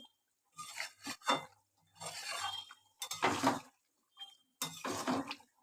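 A spoon stirs a potato, pointed gourd and paneer curry in a pot, making several separate bursts of scraping and clinking against the metal, moderately close and with short pauses between strokes.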